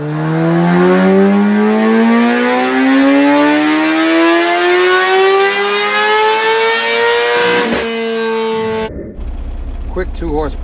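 A 2020 Kawasaki ZX10R drag bike engine on a dyno revs up in one long, loud rising pull, its pitch climbing steadily before cutting off abruptly, followed by a brief burble.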